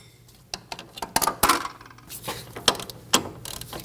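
A ratchet tightens the nut on a Volkswagen Passat front steering knuckle, giving irregular quick metallic clicks and clanks, close and fairly quiet, with no one talking.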